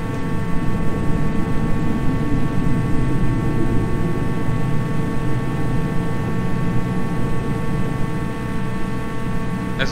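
A simulated Cessna 310 twin-engine plane drones loudly and steadily as the throttle comes up during a climb, a dense, unbroken engine roar with a tonal hum and no voices.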